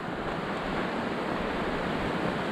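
A waterfall along a trail near Metaline Falls gives off a steady, even rush of falling water, a broad continuous roar that holds constant throughout with no voices over it.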